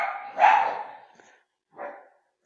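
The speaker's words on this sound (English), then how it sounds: "you're going to hear my dogs in the background" Dogs bark at home in the evening, a loud close burst of barks followed by a shorter, quieter bark after a pause, with no talking.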